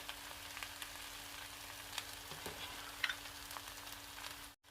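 Eggs fry in a pan for cauliflower and pork fried rice, made Thai-style in Sweden, giving a soft, steady sizzle throughout, with a faint tap near the middle and a brief drop to silence just before the end.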